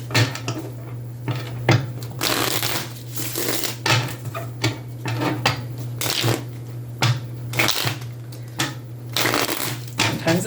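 Tarot cards are shuffled by hand in repeated bursts, each a crisp riffling flutter followed by brief pauses, close and fairly loud with no talking.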